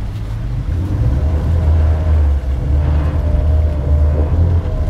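Twin Yamaha 300 hp outboard engines on a Silvercat 34CC power catamaran rumble steadily close by, their low drone shifting slightly in pitch as the boat maneuvers on the spot.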